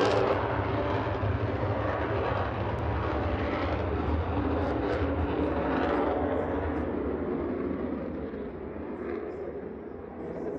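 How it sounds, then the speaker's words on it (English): A Boeing F/A-18C Hornet of the Finnish Air Force roars past at an air show display, a loud sustained jet engine rumble that slowly fades toward the end. "The Boeing FA-18C Hornet of the Finnish Air Force."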